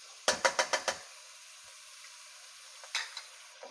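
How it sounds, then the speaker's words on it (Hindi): Whole cumin seeds with ginger-garlic paste frying in oil over a medium flame: a quick run of five sharp sizzling bursts, then a quiet low hiss, and two more crackling bursts near the end, close and fairly soft, no talking. "इसे तकरीबन 1 मिनट फ्राई करूंगी इसके अंदर ऑयल में"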